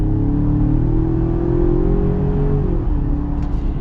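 A 2021 Ford Ranger Tremor pickup truck accelerates hard, its engine note rising steadily and loud for several seconds before easing off near the end, with a constant close-up drone throughout.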